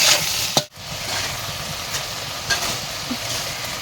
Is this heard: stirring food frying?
yes